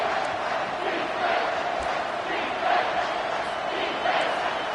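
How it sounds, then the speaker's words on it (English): A college football stadium crowd at Liberty versus Texas roars steadily for the defense, a dense, distant wash of cheering with periodic surges and a commentator talking over it. "This crowd knows this defense needs them right now."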